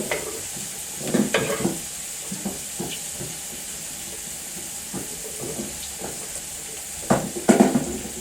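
Chopped mushrooms sizzle steadily in a pan, with occasional clatters and scrapes of stirring.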